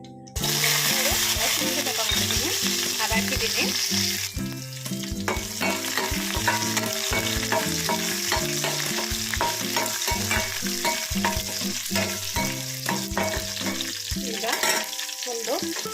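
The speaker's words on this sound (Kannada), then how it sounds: "ಸಾಸಿವೆ ಸಿಡಿಬೇಕು ಸಾಸಿವೆ ಚೆನ್ನಾಗಿ ಸಿಡಿದಿದೆ" Mustard seeds crackling and popping in hot oil for chickpea usli, dense rapid close spluttering over a continuous sizzle, loud and unbroken with brief stirring noise.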